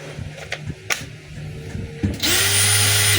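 After a few light clicks and handling knocks, a DeWalt DCD796 18V cordless hammer drill spins up with a sudden, steady high whine that holds to the end, close by and loud, with no voices.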